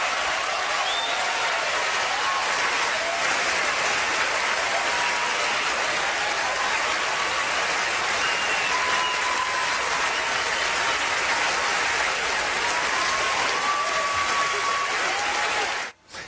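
Crowd applause at a Hollywood event honoring Roman Polanski, a steady, dense roar of clapping from a large audience on its feet, continuous and loud throughout before cutting off abruptly at the end.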